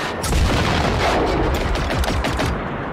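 Rapid gunfire in the video game Generation Zero, with dense bursts of automatic shots and booming reports that stay loud and continuous without a pause.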